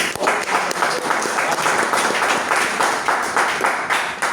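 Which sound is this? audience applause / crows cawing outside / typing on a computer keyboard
audience applause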